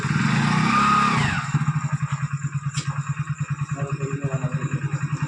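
A motorcycle engine putters close by, a rapid, even pulsing chug that runs steadily after a brief smoother whine at the start.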